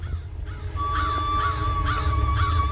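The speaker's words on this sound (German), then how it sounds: "Merkwürdig, die Raben sammeln sich." Ravens caw repeatedly in the animated series Yakari, a run of harsh, rhythmic calls over a sustained musical drone, fairly loud and close.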